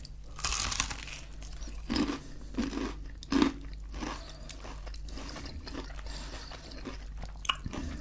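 Biting and chewing crunchy hot and spicy crispy chicken wings, with a few sharp crunches followed by steady close-up mastication and crackling over a low background hum.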